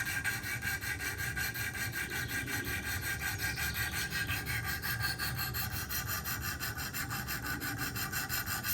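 Steady, continuous abrasive rubbing of a stone across the blade of an Emerson by Kershaw knife on a Wicked Edge sharpener, a dense scraping hiss held close and even throughout with no pauses.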